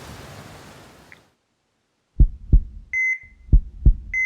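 A fast heartbeat sound effect in an audio drama, set in a hospital scene, with deep close paired thumps repeating quickly and an electronic monitor beep sounding between them after a brief stretch of noise and silence.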